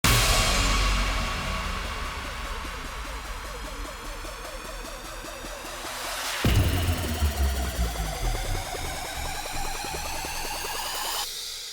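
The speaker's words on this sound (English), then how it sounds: "Impacts, downlifters, short sweeps, and risers." Electronic dubstep sound effects stack up: booming impacts, falling downlifters, short sweeps and rising risers, with dense tonal sweeps and a sharp hit midway, loud and without voices.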